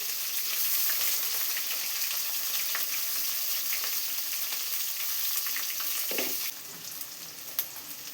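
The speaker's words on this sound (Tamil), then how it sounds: "எண்ணெய் காஞ்சோடனே சோம்பு போட்டுக்கலாங்க. சோம்பு போட்டோடனே கருவேப்பிலை போட்டுக்கலாங்க." Fennel seeds and curry leaves frying in hot oil for chicken gravy, a loud steady hiss and crackle up close that drops slightly in level after a brief clatter, popping continuing to the end, no speech.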